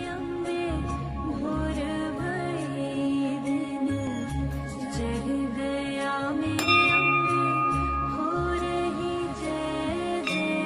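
Many metal bells hang at a Devi temple and ring close by in a loud, overlapping clangor. Their bright tones strike again and again and keep resonating, with no talking over them.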